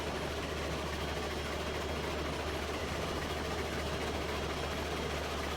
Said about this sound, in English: Pretty sure this engine shouldn't have an issue getting up there with this load.